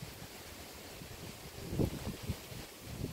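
Outdoor wind gusting across a dahlia trial field, a low rumbling buffet on the microphone that swells in bursts toward the middle and end, with no voices.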